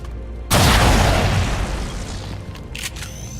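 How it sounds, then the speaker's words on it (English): A sniper shot in XCOM sets off one loud, booming explosion that destroys an enemy turret, a sudden blast that rumbles away over a couple of seconds. "Let's have Johnny Zombie take a shot at this turret."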